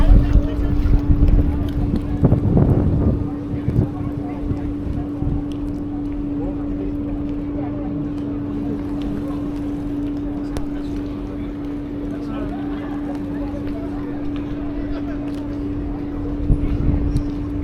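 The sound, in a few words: boat passing by on a Copenhagen canal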